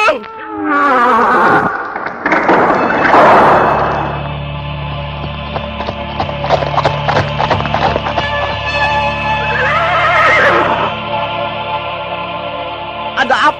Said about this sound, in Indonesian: Kenapa kalian memacu kuda di halaman istana dengan kecepatan tinggi?